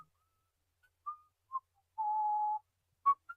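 A person whistles a few short, quiet notes, then holds one steady tone for about half a second before a final brief chirp, thin and isolated against silence.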